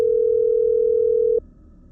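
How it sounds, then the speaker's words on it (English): A steady single-pitch telephone tone sounds loud and continuous while calling someone at night, cutting off abruptly near the end and leaving quiet room hiss. "Then I tried calling Michael again"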